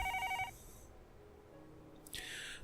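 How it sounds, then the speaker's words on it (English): A desk telephone in the Higurashi visual novel gives a short burst of electronic ringing, then a quiet pause before a second ring starts up near the end, loud and close with no voices. "The phone on the desk rang and the cop picked it up."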